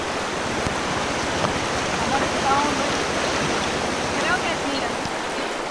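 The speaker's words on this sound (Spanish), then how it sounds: "Bueno, nos toca cruzar otro río." A river crossed on a motorcycle trip in Colombia rushes steadily nearby, a constant loud wash of flowing water with no pauses.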